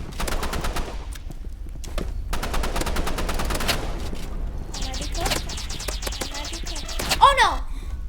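Rapid bursts of gunfire crackle in a Roblox Rivals 1v1 shotgun match, repeated close shots in clusters, with game effects and a short rising sound near the end.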